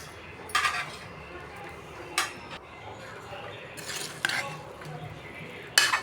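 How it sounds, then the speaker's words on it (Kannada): A pressure cooker lid being opened and cooked green gram sprout rice being handled, heard as several sharp metallic clinks and scrapes of utensils on pots, close, spaced over a quiet background. "ಕುಕ್ಕರ್ ಓಪನ್ ಮಾಡ್ತೀನಿ ಲಿಡ್ನ."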